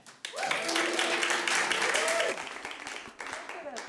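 Applause and cheers break out from the audience at a comedy showdown, a dense burst of clapping that swells, holds for a couple of seconds, then thins to scattered claps with a voice over it.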